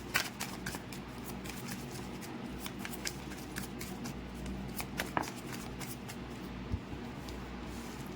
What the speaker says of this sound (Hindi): please stay positive guys till I shuffle the cards